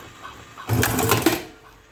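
A self-built cigarette tube filling machine with a tube sensor and MOSFET control board kicks on for about a second, a close mechanical whirring burst that starts abruptly and dies away.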